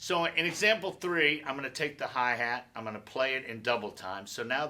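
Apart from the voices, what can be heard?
No everyday noises stand out.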